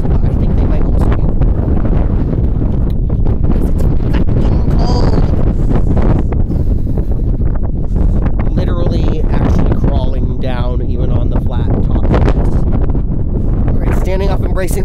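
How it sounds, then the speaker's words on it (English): Strong outdoor wind gusts batter the microphone in a loud, continuous low roar, with voices talking intermittently beneath the buffeting. "embracing the wind one last time"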